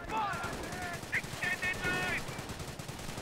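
Machine gun in Company of Heroes firing from a building window, short rapid bursts of crackling automatic fire heard at moderate distance amid battlefield ambience.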